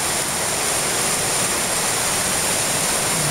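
A flooded river rushes past a bridge in a steady, loud, broadband roar of fast water that stays constant throughout, with no voices.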